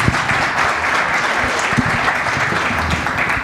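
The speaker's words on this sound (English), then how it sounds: "please give them a round of applause." Audience applause at the close of a marketing panel session: dense, steady clapping from a sizeable crowd that holds at an even, fairly loud level throughout, with no voices on top.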